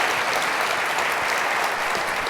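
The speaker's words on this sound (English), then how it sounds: "another round of applause for Owain Evans" An audience claps steadily through a lecture hall after a talk on reading the thoughts of AI language models, a dense, even wash of applause with no gaps and no speech.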